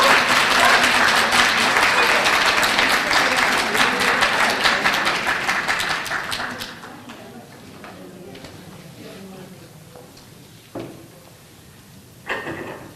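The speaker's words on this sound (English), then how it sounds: "So how about a round of applause for Janet and Ray?" An audience at an elder fraud summit applauds loudly and steadily for several seconds, then the clapping fades to scattered claps under quieter room noise and a speaker's voice.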